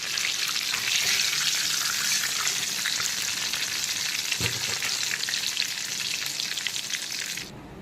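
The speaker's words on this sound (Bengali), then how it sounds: "তো এখন তেল থেকে আলুগুলোকে তুলে নিচ্ছি।" Potato pieces sizzle steadily in hot oil as they are lifted out, a loud dense crackle with one utensil knock partway through, stopping abruptly at the end.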